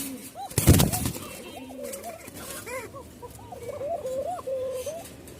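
A pair of long-call Giribaz pigeons on a farm coo repeatedly in rising, bubbling phrases. A loud flutter or scuffle breaks in early, and the cooing continues at moderate distance over a busy background.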